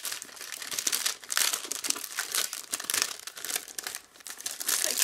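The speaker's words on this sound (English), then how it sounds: "we'll go ahead and undo the plastic" Plastic wrapping is peeled off a boxed A6 ring-bound planner, close and loud crinkling and crackling in repeated bursts with short pauses, no talking.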